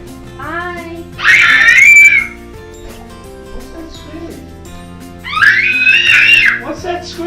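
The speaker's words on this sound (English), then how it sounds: "What's that screaming? What are you screaming about?" A child screams in two loud, high bursts during a rainy day at home, separated by quieter sing-song voices and talk.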